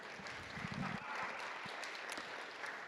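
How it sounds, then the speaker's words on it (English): Applause from an audience at a talk on rural mental health care and teacher pay, a steady dense wash of clapping lasting a few seconds at moderate distance. "I think we can have some applause there."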